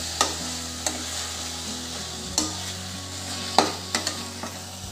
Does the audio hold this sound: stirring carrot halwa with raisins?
yes